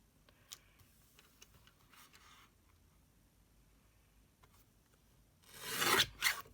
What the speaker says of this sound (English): it is a brilliant little trimmer for doing small bits